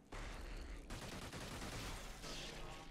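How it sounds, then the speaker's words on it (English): Dense, continuous bursts of video game gunfire and laser fire crackle and rattle in a sustained barrage during a battleship raid in XenoNauts, loud and harsh, with shifting bright bursts layered on top. "that sounds like heavy gunfire and laser fire"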